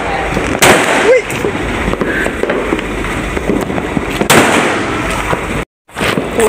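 Fireworks and firecrackers burst nonstop at a New Year countdown in Nakhon Pathom, Thailand, a loud dense crackle of near pops and bangs with a brief cut near the end, while people shout and talk over it.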